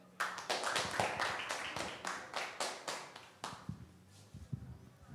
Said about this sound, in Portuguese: Um salve de palmas para ele.